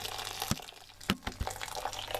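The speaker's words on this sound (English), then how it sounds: "There's the water boiling again." Water boils in a saucepan on the stove for poaching eggs, a quiet bubbling hiss with occasional soft pops and drips close by.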